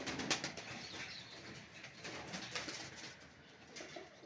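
Pigeons, kept birds including white pigeons, coo softly in a low, rolling rhythm, with a few wing flaps and faint background bustle.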